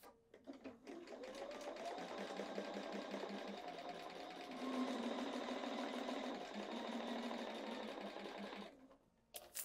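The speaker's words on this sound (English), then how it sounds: "We have to sew that final seam" Sewing machine stitching the final seam of a quilt block, a steady mid-pitched whir running continuously for most of the stretch, close and clear, starting and stopping abruptly at the ends.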